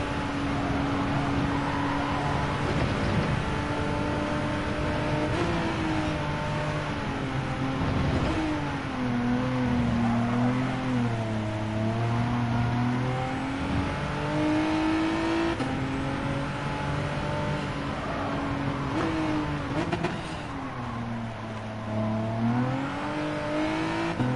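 Renault RS01 race car in a racing video game, running in a Group 3 race, its engine droning loud and steady throughout with the pitch rising and falling through gear changes and corners, and no voices.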